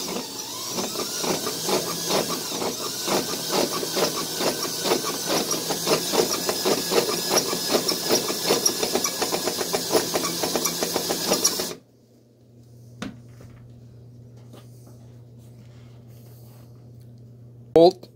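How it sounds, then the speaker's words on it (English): Saker outer reamer running on a damaged bolt thread, a dense rapid mechanical whirring and grinding with steady pulsing texture for about twelve seconds, then cutting off abruptly to near silence with a couple of faint knocks. "So I'll try the reamer out today, see how it works."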